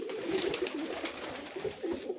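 A pair of Sirazi pigeons coos in a home loft, soft rolling low calls repeating steadily and close, with no voices over them.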